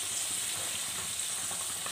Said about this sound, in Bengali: তো চলো আমি এভাবে সবগুলো ভেজে নিই।